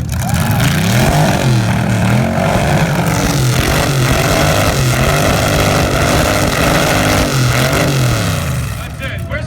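A red hot rod revs its exhaust in an exhaust battle at a car show, roaring loudly and continuously with rising and falling throttle blips close by, and voices faintly mixed underneath.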